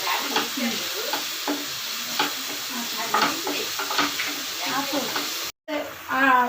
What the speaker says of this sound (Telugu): ఉల్లిపాయలు బాగా వేగినాయి కదా